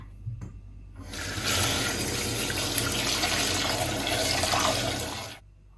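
Water runs steadily from a tap into a sink for several seconds, with light splashing as vegetables such as small tomatoes and limes are rinsed, then cuts off.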